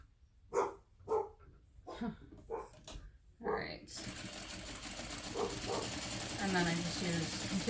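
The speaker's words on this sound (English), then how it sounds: "And my dog's barking." A dog barks several times in short, sharp bursts, then a loud, steady whirring machine noise takes over and continues to the end.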